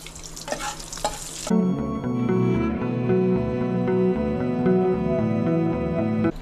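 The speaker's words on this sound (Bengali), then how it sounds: "আর 1 টিস্পুন আমি সরষে দিচ্ছি, কালো সরষে।" A spoonful of black mustard seeds hits hot oil in a pan and sizzles steadily, a bright crackling hiss with occasional stirring, close and continuous after a short burst of noise at the start.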